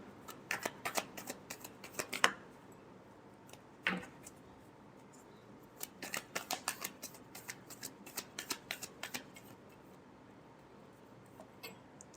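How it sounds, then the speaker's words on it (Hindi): Tarot cards being shuffled by hand, bursts of crisp riffling clicks in quick runs separated by short pauses, close and fairly quiet with no talking. "Last shuffle."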